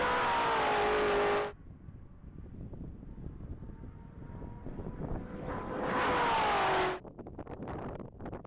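A 2019 Chevrolet Corvette Z06 at a top-speed mile event roars loudly at the start, cuts off abruptly, then swells again as another high-speed pass nears and abruptly ends, with wind noise between.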